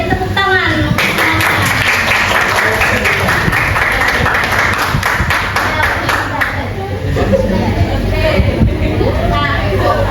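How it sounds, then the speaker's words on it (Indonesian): A classroom of students claps for group work, a steady, dense patter of many hands close by, with chatter and babble running underneath and a voice rising near the end. "Silakan semuanya beri tepuk tangan."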